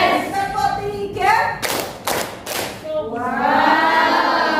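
A classroom group claps in a short rhythmic pattern, a few sharp, loud claps set between spoken and chanted voices.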